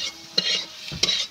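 Chopped tomato and spices frying in a pan for a Bengali lata fish curry with okra, stirred with a utensil: two distinct scraping stir strokes over a steady soft sizzle, close and alone.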